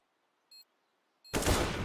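Gunfire in a video game: after near silence and two short beeps, a sudden loud close burst of shots hits, dense and sustained until the end.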